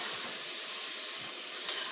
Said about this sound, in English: we wanted to hit that grease and get that sizzle